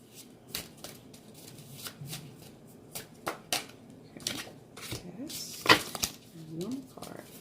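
Tarot cards being shuffled by hand in short rustling bursts and soft flicks, several close riffles spread across the stretch with a few sharper card snaps near the end.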